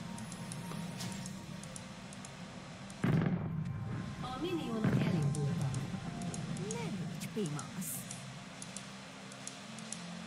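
A heavy cannon blast booms from League of Legends partway through, followed by a second boom, with someone talking excitedly in Hungarian around the shots.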